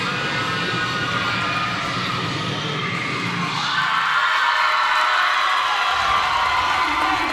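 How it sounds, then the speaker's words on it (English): A crowd at a competitive cheer semifinal cheers and shouts steadily throughout, a dense roar of voices with high whoops that swells louder toward the end. "Crowd's loving it."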